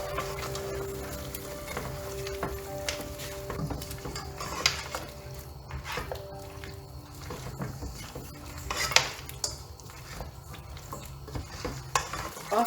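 Masala with garlic, ginger and chili pastes is stirred in a large biryani pot, a continuous close scraping and clattering of a ladle over a steady sizzle, with frequent metallic knocks and no talking.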